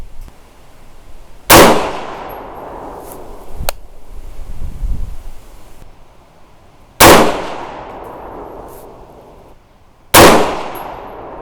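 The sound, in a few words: 6.5 Grendel rifle shots with 85g Sierra Varminter bullets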